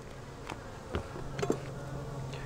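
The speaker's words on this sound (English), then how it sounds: "Goofy bees." Honey bees buzz softly around an open beehive during a honey super harvest, a low steady drone with a few brief louder passes close by.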